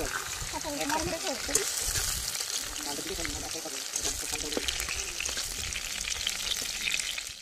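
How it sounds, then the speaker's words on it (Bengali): Eggplant frying in hot oil in a karahi makes a loud, continuous sizzle with light spattering, while a person talks over it. "বেগুন ভাজা হয়ে গেছে, আর তুলে নেব।"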